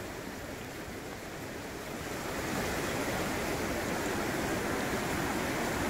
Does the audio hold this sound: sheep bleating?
no